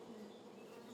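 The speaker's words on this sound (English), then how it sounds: "Sounds like there's like a beehive." Bees buzzing around a beehive in the hunting game theHunter: Call of the Wild: a steady, droning insect hum, close and continuous, with no other sounds over it.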